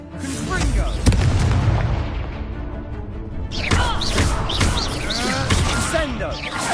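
Confringo spell blasts in a Hogwarts video game: repeated booming explosions with crackling bursts, loud, alongside a player speaking.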